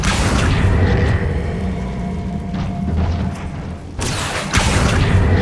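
An Incendio fire spell is cast in the Hogwarts Legacy video game, producing loud, steady booming rumbles with a brief dip before a fresh burst of roaring flame near the end.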